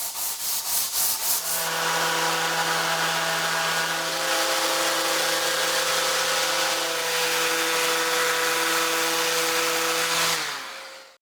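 Sanding a wooden project by machine: a steady, loud whirring drone with a hum that holds for about nine seconds, then winds down and stops near the end.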